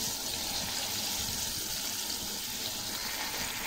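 Water poured into a cooking pot of goat lung curry, a steady broadband rushing splash lasting several seconds, close and even, with no talking.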